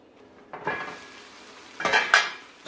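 A lid clatters onto a pot of simmering coconut curry seim with potato: one metallic clink, then a louder double clank a moment later, close by, with a faint cooking hiss in between.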